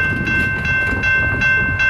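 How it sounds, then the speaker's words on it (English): A CSX freight train rolls past nearby, a steady loud rumble of rail cars with clacking wheels and no voices. "And it is another CSX train."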